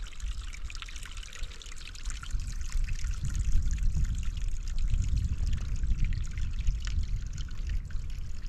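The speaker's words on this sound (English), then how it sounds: "Some of these water sources just amaze me. I mean, this is coming out of the trunk of a tree." Spring water trickling out of a tree trunk beside a trail in the Appalachian mountains, a steady soft close stream of running water with no voices.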